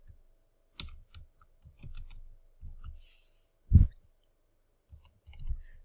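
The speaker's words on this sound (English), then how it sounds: "I'm gonna go and type in the username, and then I'm gonna type in the password" Sparse, soft clicks and taps of a computer keyboard as a username and password are typed, in small irregular clusters with one sharper tap and short pauses between, quiet and alone in an indoor room.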